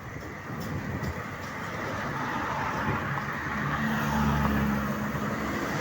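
Continuous highway traffic in Baliwag, Bulacan, a steady broad roar of passing vehicles that swells slightly, with a low engine drone rising near the end.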